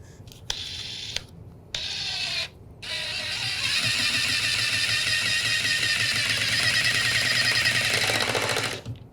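A DeWalt 20V MAX XR impact driver runs a few short bursts, then holds a long continuous whirring rattle driving a screw, close and loud, before stopping.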